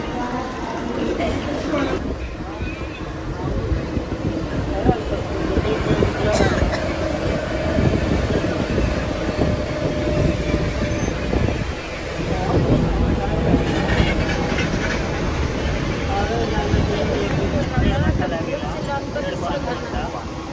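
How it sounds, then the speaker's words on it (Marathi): A Mumbai local train runs from Thane to Dadar, with a continuous rumble and rattle of wheels on track, occasional squeals, and people talking over the noise throughout. "ट्रेन पकडूया आणि निघूया."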